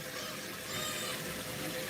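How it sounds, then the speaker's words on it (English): Water streams from a waterfall-style kitchen sink faucet in a steady, close, continuous rush that briefly swells slightly louder. "This is where you can put your veggies and wash it with the waterfall."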